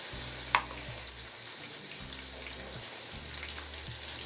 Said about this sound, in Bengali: এখন এই চিংড়ি মাছটাকে আমি 2 মিনিটের মতো ভুনা করে নিচ্ছি।